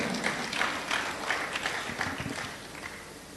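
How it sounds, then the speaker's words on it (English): An audience gives a brief round of applause at a birthday and anniversary celebration, the scattered clapping moderately loud and fading after a few seconds. "Please, a round of applause for the technical team."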